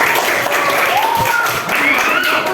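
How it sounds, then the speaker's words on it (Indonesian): Children in a classroom clap together in a dense, steady patter that fills the whole stretch, with excited young voices calling out over the clapping. "Oke, tepuk tangan buat kita."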